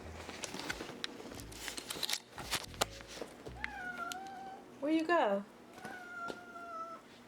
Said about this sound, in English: do you guys want to see the cat?